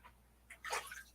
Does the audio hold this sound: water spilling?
yes